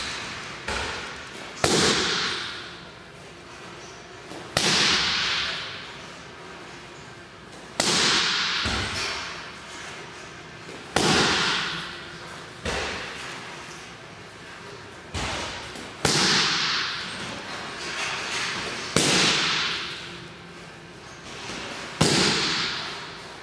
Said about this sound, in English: So a few rear leg round kicks.